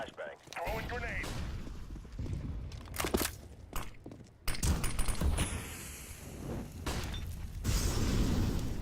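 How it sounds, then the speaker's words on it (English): A Counter-Strike match plays with footsteps, mechanical clicks and sharp bursts as a flashbang and a grenade are thrown, followed by loud blasts, while players talk over the game. "Throwing flashbang. Throwing grenade."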